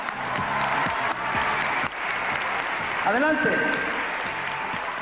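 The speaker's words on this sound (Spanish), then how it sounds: "¿Qué les parece si les brindamos un aplauso lleno de energía?" A televised beauty pageant audience claps and cheers, sustained applause under a presenter's voice, with a short musical flourish rising partway through.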